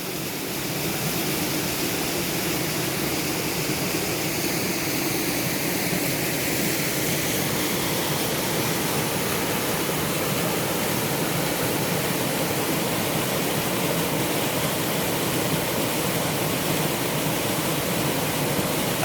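A waterfall roars steadily and loudly from start to finish with no break, a dense, unbroken rush of falling water heard up close.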